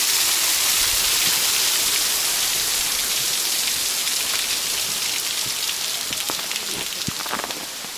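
Steady broadband rush of falling water at a waterfall in the Springbrook National Park rainforest, loud and continuous with a few sharper splashes near the end, no voices.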